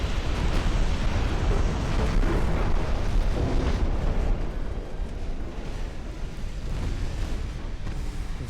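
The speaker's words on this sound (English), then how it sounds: "your magazine just detonated" A ship's ammunition magazine detonates in the naval game Ultimate Admiral: Dreadnoughts, a massive sustained roaring explosion with heavy low rumble filling the whole stretch, loud and close, no voices.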